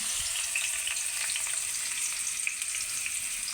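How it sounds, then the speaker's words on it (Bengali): Chopped onion and slit green chilies frying in oil in a pan, a steady close hissing sizzle throughout with faint crackles, no talk. "পেঁয়াজ কুচি দিয়ে দিলাম,"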